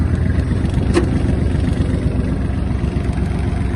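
A Kubota GL-32 Japanese mini tractor engine runs at a steady, loud idle, a continuous low diesel rumble with one brief click partway through.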